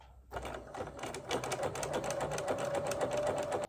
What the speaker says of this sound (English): Try your best not to stretch the fabric when you sew